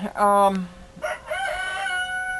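A rooster crows once, loud and nearby, its drawn-out call rising and falling over a few seconds.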